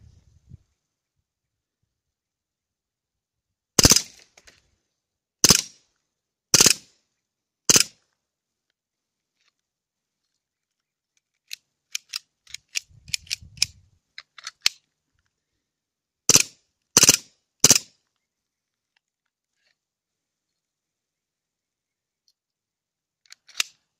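Shots from a KWC Beretta 92 air pistol: sharp, loud cracks in short bursts, about four spaced pops, then a cluster of smaller clicks and handling noises, then three more quick shots, with quiet gaps between.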